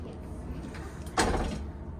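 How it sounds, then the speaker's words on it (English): Automatic sliding doors glide shut with a soft mechanical whir, then a brief louder rush as they meet, heard close over room hum. "The doors are closing?"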